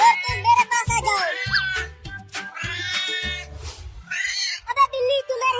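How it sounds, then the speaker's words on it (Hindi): Kittens give high, wavering meows in a cartoon scene, several cries close together alongside lower voiced sounds and talk, loud and busy throughout. "चलो बिल्ली के बच्चों के साथ खेलते हैं।"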